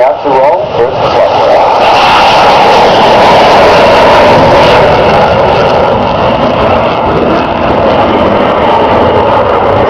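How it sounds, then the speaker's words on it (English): An FA-18F Super Hornet jet rolls for takeoff at the RAAF Williamtown air show, a loud, continuous broadband engine roar that fills the whole stretch. "the Super Hornet is about to roll for its flight"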